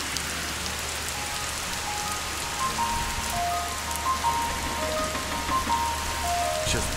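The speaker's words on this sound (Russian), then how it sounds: "Такой настоящий тропический дождь." Steady tropical rain falls on the Maldives, a dense, even hiss of drops with faint bird whistles in the background and no talk.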